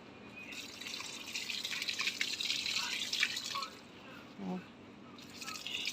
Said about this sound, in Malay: ni air kulit pisang tadi, so kita siram je lah.